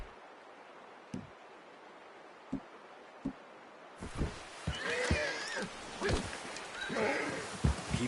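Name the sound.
horse in video game Red Dead Redemption 2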